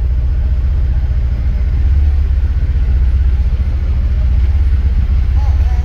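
Can-Am Defender Limited UTV engine running steadily at low RPM, around 1800 to 2000, while creeping along slowly; a loud, continuous low rumble that holds even throughout, with no talk over it.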